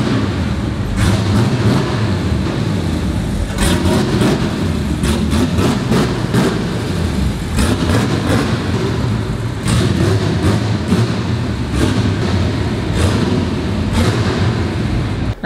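A drift car's engine roars loudly and continuously, close by and dense with low rumble, with repeated sharp bursts that sound like revving and popping over the steady drone.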